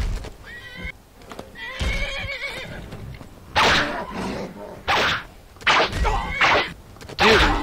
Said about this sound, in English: there's an invisible horse attacking me